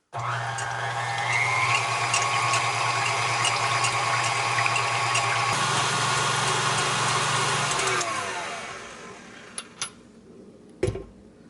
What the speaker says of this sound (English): I have the milk and creamer in my KitchenAid with the whisk, and I'm gonna put this on about medium for like maybe 20 seconds